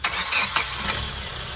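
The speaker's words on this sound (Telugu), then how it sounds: "సింగిల్ సెల్ఫ్తో అయితే స్టార్ట్ అవుతుంది బండి" A 2015 Hyundai Creta 1.6 diesel cranks and fires on a single turn of the starter, a brief loud whirr catching into an engine note that settles toward idle, close up with no talking.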